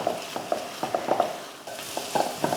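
Crab and egg podimas is being stirred in a pan, with a soft frying sizzle underneath and about a dozen sharp, irregular scrapes and taps of the spatula against the pan.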